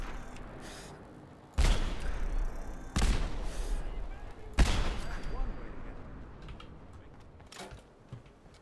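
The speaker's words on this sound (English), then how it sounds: "this Ghost Rifle does a shit ton of damage if you get them on the first shot" Ghost Rifle gunfire in Fallout 4's Far Harbor DLC: three loud, sharp shots spaced about a second and a half apart, each followed by a decaying rumble, over quiet game ambience.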